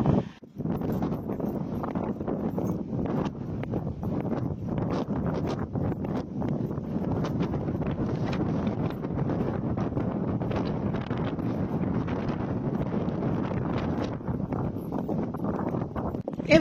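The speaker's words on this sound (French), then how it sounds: "il y a trop de vent pour que je pose mon trépied" Strong wind buffets the microphone on a beach during a pony outing, a steady loud rumbling roar lasting throughout with no talk.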